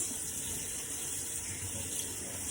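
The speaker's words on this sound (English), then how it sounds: "I'm gonna rinse them out really well in the sink here" Tap water runs steadily into a sink while dyed fabric is rinsed under it, a constant close hiss and splash with no talking.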